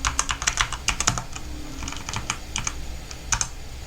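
Rapid keystrokes on a computer keyboard while a password is entered at a Linux terminal, a burst of close clicks, a brief pause, then scattered taps and a final short flurry.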